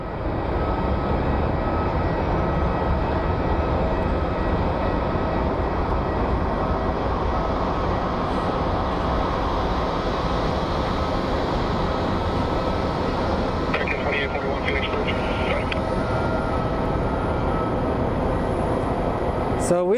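A Southwest Airlines airliner in Canyon Blue livery arriving from Milwaukee at Phoenix Sky Harbor, with a loud sustained jet engine roar throughout, steady and broad, ending in a short clatter.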